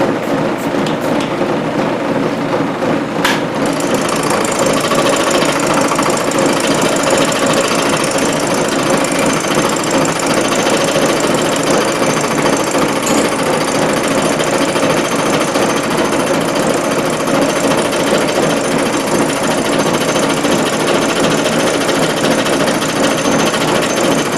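Heavy, rough cuts on a metal part for a rotary table tail stock, a loud steady machining roar that runs unbroken for the whole stretch, with a gritty chattering texture and no talking.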